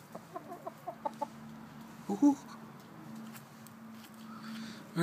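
Chickens cluck in a short run of soft, evenly spaced calls at close range, with a person speaking briefly over the flock.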